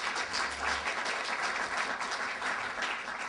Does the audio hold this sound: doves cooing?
no